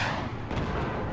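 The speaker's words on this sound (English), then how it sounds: "one howitzer gets through, second one gets taken out, third one still does a bit of damage" Howitzer artillery fire in a strategy video game booms in a dense, continuous low rumble of blasts, loud and crowded with overlapping impacts.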